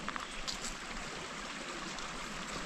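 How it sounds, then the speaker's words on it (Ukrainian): A river flows through an autumn beech forest in the Carpathian mountains, giving a steady, unbroken rush of water that holds at an even level throughout with no voices. "Річка попереду."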